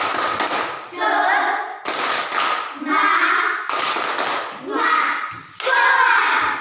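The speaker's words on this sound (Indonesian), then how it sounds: "Kita beri semangat untuk kelompok 1. Tepuk semangat." Children in a classroom clap a rhythmic cheer for a group, loud and close, in repeated bursts with chanting voices between the claps.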